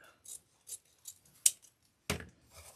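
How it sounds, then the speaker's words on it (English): Scissors cut ribbon in a series of short, crisp snips spaced unevenly, with one sharper cut standing out. It is close and quiet, with no talking. "And now I'm going to cut this one."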